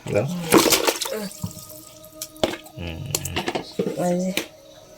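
Water splashes and sloshes in bursts as freshly cut country chicken is soaked and rinsed, with people talking over it.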